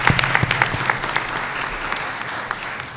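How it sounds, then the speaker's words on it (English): A room of attendees at a school board of education meeting claps for new staff members: dense, steady applause for the full three seconds, with sharp individual claps standing out over a faint low hum. "Let's give another big round of applause to all of our new staff members who are here."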